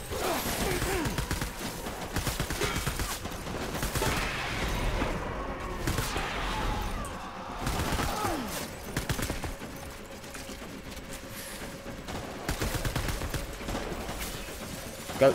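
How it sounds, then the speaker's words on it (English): Assault rifle fire rattles in Death Stranding, dense bursts of rapid shots mixed with mechanical clatter, moderately loud and continuing on and off throughout. "Hang on, give me the assault rifle."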